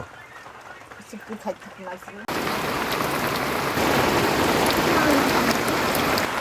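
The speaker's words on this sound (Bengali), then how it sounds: "দেখুন বৃষ্টি কিন্তু থেমে থেমে হচ্ছেই" Steady, dense monsoon rain pours down up close in a Bangladeshi village, a loud continuous hiss of drops hitting surfaces, after a brief quieter stretch at the start.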